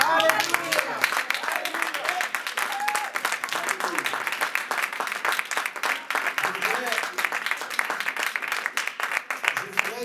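A church congregation applauds and claps for Jesus during a French-language worship service, with steady dense clapping throughout and voices and singing threaded underneath.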